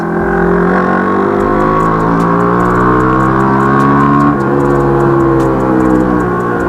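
A Yamaha R15 v3 motorcycle's exhaust drones loud and close at a steady, slightly rising pitch with a brief dip midway, the engine held at constant revs throughout.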